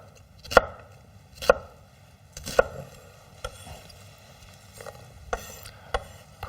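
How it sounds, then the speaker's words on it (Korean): Onion being sliced on a cutting board with a knife for a stir-fried cockle dish, a few sharp, distinct chops spaced irregularly and close, with quieter knife taps between. "지금 요 양파는 한 1cm 정도 폭으로 썰어주세요"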